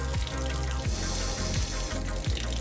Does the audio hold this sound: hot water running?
yes